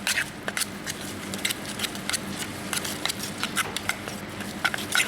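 Dumpling filling with sesame oil is stirred by hand, giving a continuous soft, wet squelching and patter of small clicks that sits close by and fairly quiet, with no talking.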